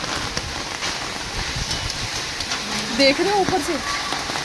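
Hail falls on a balcony in Delhi with a dense, steady, hissing patter, and someone talks over it.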